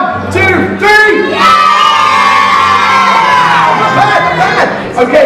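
A team of children at a holiday park event screams and cheers together on cue, a loud burst of high shouting that swells and fades over a few seconds.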